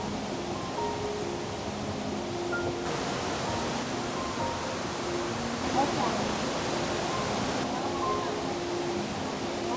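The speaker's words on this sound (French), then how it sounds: "Le bourdonnement constant de l'Areuse ajoute une dimension méditative à l'ensemble" The Areuse river rushes through its gorge in a steady, constant broadband hum, even and unbroken, heard alone without voices.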